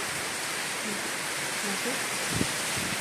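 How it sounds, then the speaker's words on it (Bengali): Steady, heavy rain with strong wind hisses continuously as a dense wash of noise, with a brief muffled voice in the background. "তেমনি বৃষ্টি তেমনি হাওয়া দিচ্ছে"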